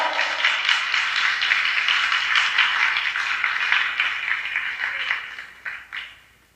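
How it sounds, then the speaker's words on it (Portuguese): A church congregation applauds in a dense, sustained round of clapping that holds steady for several seconds, then thins out and fades with a few last scattered claps. "Dê uma salva de palmas para Jesus"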